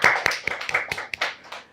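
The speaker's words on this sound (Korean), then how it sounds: "박수 한번 주세요." A church congregation claps during a Sunday sermon, with sharp, close hand claps in a loose, uneven rhythm that are loud at first and taper off over a couple of seconds.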